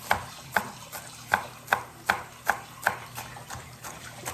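A knife chops green onions on a cutting board for a Korean noodle garnish. About a dozen crisp, evenly spaced chops sound close up with no talking.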